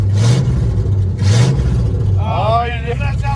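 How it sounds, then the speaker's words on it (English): A 1974 Ford F-250 with a custom 360 big block engine idles with a deep rumble and is revved twice in quick swells, with people talking over the steady engine noise. "Give it a couple more revs and we can kill it."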